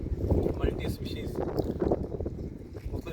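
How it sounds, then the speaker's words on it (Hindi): Wind blowing outdoors at a roadside cafe in Badin, a steady loud rumbling gust noise buffeting the microphone throughout, with voices talking underneath. "हवा चल रही है"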